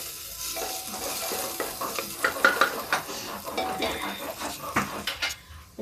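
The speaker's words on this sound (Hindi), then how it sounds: "देखिए मेरा प्याज पक रहा है इधर" Onions frying in a pan on a home stove, a steady soft sizzle broken by repeated clinks and scrapes of a spoon stirring against the metal, fairly close and moderately quiet.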